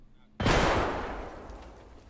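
A grenade blows up in Escape From Tarkov: a single loud, sudden blast that rolls off into a long, fading rumble after a brief quiet moment.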